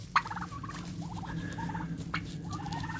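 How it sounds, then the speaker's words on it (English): Turkeys gobble among a farmyard flock of chickens, ducks and goats, with a few rapid rattling gobble bursts spread across the clip at moderate distance, one sharp loud call near the start. "There's a turkey."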